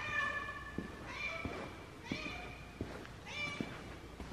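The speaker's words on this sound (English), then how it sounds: "Do you have anything to say besides meow?" A cat meows repeatedly in a quiet indoor setting, four or five short, clear meows spaced about a second apart, close by and fairly soft.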